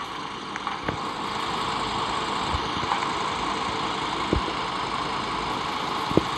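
A vehicle engine in the Roblox game Dead Road hums at a steady idle, a low continuous drone with a few faint clicks and no talking.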